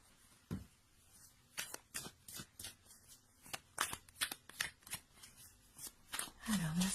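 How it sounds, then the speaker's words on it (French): Oracle cards are shuffled by hand in a rapid run of close, crisp riffling flicks, with a brief voice near the end. "on va prendre les cartes oracles « Je suis à ma place » pour avoir un"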